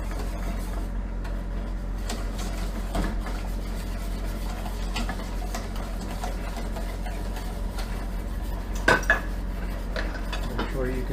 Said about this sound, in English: As long as you keep whisking, everything will